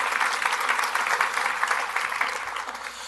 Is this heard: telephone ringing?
no